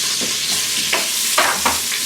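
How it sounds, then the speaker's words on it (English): Onions frying in bacon fat inside an Instant Pot crackle and hiss loudly and continuously, with several swelling bursts of sizzle as they are stirred, and no one speaking. "put in my onions."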